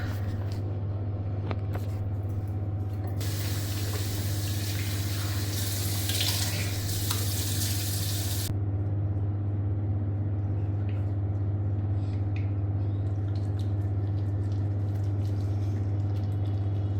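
Running water pours steadily from a tap while someone washes their face, a constant close rush with a brighter splashing burst partway through and low hum beneath.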